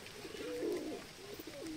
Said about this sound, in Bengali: এখানে এটা হচ্ছে আমাদের একটা লোটন পায়রা